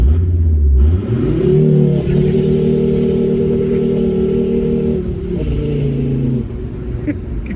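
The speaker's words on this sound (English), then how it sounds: "Wheel spin into changing it to second gear in an old Volvo." An old Volvo car engine revs hard and loud with wheel spin, pitch climbing, dropping briefly at the change into second gear, then pulling strongly again; close and continuous throughout.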